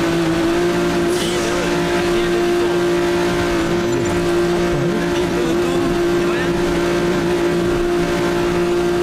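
In the GTA video game, a car engine holds a loud, steady drone throughout at a constant pitch, with no distinct revving, and voices can be heard in the game audio.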